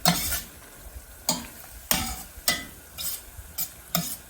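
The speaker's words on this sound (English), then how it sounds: "cook this down a little bit and saute all this up" Salisbury steak ingredients sautéing in a pan, broken by a handful of loud, scraping stirs at irregular intervals over a steady background sizzle, close up with no voices.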